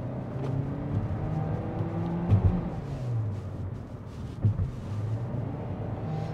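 Engine of a 2022 Kia Forte GT Line revs to high RPM while cornering, a steady droning whine heard from inside the car with a couple of brief thumps, moderately quiet and without talk.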